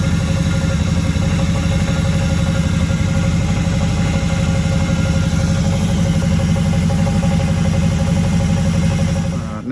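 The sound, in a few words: car engine idling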